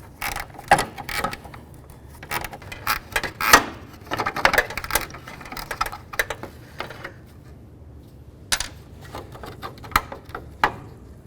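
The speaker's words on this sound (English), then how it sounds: "I'm going to use my 13mm ratchet wrench." A 13mm ratchet wrench working the marker light nuts on a 1992-99 GMC K1500, with quick clicking ratchet bursts and scattered metallic ticks in irregular runs, close up and fairly quiet, with no talking.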